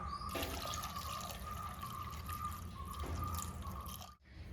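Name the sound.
water added to green gram mango curry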